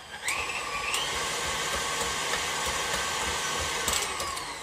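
A stand mixer with a paddle attachment runs briefly on muffin batter, a steady whirring motor drone with a rising pitch at the start, holding continuously without any talk.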